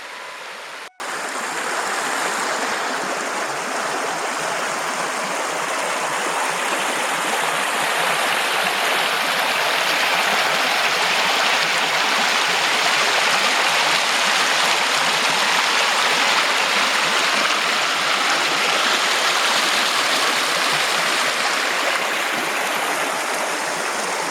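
River water rushing over a shallow riffle on the Bober river, a steady broad roar of flowing water heard close and loud, holding constant for over twenty seconds with no voices.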